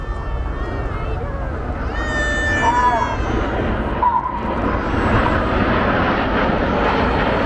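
Red Arrows display jets fly past in formation at an airshow over Blackpool, a loud roaring rush with a whining pitch sweep as they pass, heard beneath a commentator's voice.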